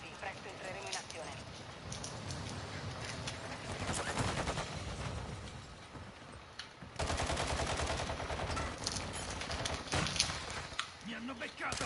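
Rapid gunfire from the Warzone video game crackles throughout in dense, sustained bursts that grow heavier in the second half, with voices talking over the shooting.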